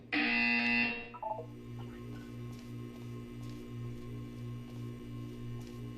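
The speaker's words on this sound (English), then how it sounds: "When you hear the buzzer, look up at the ceiling." A loud, harsh electronic buzzer from the video game Portal 2 sounds once for about a second, then cuts off into a quiet, low pulsing hum of background ambience.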